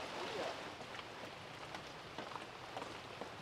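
Rain falls steadily outdoors at night, a soft continuous patter with scattered drips and faint taps against surfaces, sounding moderately close.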